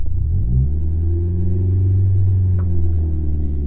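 A manual car engine holds around 2,500 RPM while the clutch is slowly let out, giving a steady loud rumble with a slight dip and recovery in pitch, close and alone.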